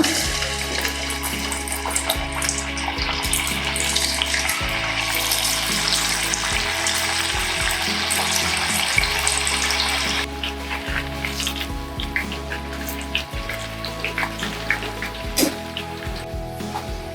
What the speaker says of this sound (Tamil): பாவக்காய் நம்ம பொரிக்கலாம்